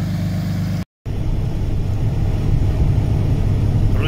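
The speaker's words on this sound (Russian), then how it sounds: "Кое-как завел трачка. Все, прогреваем, готовимся к выезду." A semi truck's diesel engine idles steadily after a hard cold start at minus 30, a loud low rumble that holds constant apart from one brief cutout near the start.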